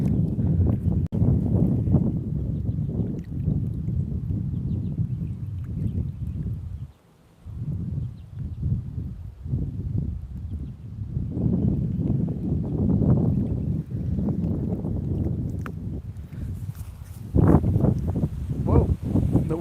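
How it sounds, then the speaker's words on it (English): Gusty wind buffets a fishing boat on open water, roaring and rustling steadily, with a brief lull partway through and louder bursts near the end. Someone talks over it. "Whoa, the wind."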